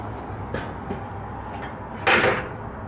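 A heavy metal cell door at the old Yuma Territorial Prison slams shut with one sharp, loud clang near the end, after some quieter shuffling and knocks.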